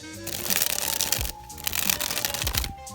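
Gold Gemini Casino playing cards dribbled from hand to deck in two bursts, a rapid fluttering patter of crisp card stock separated by a short pause, close and clear.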